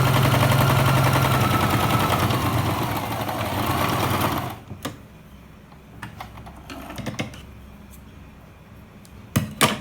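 A sewing machine stitches a pillow cover, running fast and continuously for about four seconds at close range. It then stops, leaving scattered clicks and handling knocks.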